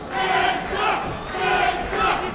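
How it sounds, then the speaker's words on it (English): At a boxing match, a large arena crowd roars and chants for a fighter. The cheering swells in waves and stays loud and dense from start to finish. "The crowd getting behind him again."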